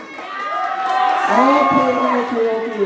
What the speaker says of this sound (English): Give a big round of applause for him.